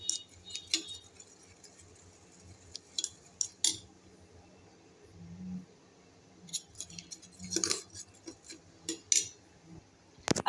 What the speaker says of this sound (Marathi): आता हे घाटून घेऊया चांगलं अशा प्रकारे, म्हणजे ते एकजीव होईल